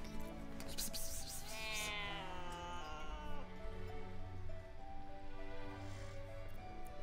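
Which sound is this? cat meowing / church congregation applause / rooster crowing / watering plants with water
cat meowing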